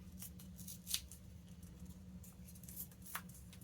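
Scissors snip through paper scraps during junk journal crafting: a few quiet, close clicks and light paper rustles over a soft background hum.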